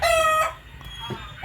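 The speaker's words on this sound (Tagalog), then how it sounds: "Maingay din sila, nagpuputak sila ng putak." Native chicken hen cackling after laying an egg, a short loud squawking call followed by fainter clucks.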